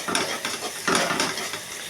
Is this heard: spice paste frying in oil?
yes